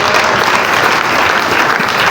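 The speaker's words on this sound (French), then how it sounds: "Acclame encore très fort." A church congregation at a Sunday service applauding loudly, a dense continuous wash of many hands clapping that fills the room, close and sustained with no talk over it.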